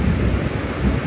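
Deep thunder rumbles through a monsoon rainstorm, a loud, continuous low roll with rain hissing steadily beneath it.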